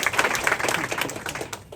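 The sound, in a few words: applause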